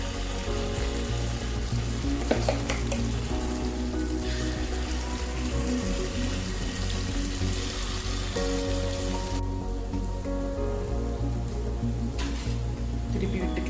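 Unni appam batter poured into hot ghee sizzles and fries steadily at close range, a continuous crackling hiss with no talking throughout.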